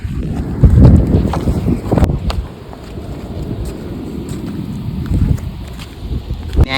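Gusty wind buffets the microphone over a low rumble of sea near the Ratneshwar Mahadev temple, the roar swelling and easing in uneven surges near the shore.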